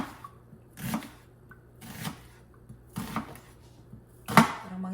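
Garlic being ground by hand while making pork lumpia shanghai, heard as four or five evenly spaced, crisp scraping strokes roughly a second apart, close and moderately loud, with no talking.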